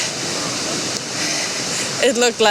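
A river in the wintry Harz Mountains of Germany rushes in a loud, continuous roar, heard close by from a bridge, and a voice speaks over it near the end.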